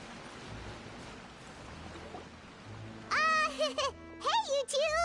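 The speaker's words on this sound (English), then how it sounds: "Oh, it's raining." Steady soft rain patters in the background in Genshin Impact, then a high, childlike voice speaks over it.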